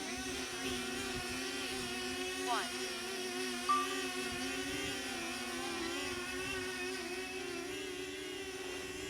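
DJI Flip drone flying in windy outdoor conditions: a faint, steady high-pitched propeller whine with layered tones that holds throughout, with light wind noise underneath and no clear talk.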